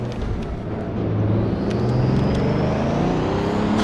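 A Bugatti Chiron accelerates in the racing game Assetto Corsa VR, a loud, close engine roar rising steadily in pitch as it builds speed, with no voices.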